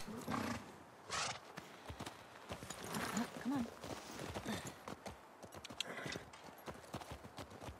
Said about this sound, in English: I really like the horseback riding.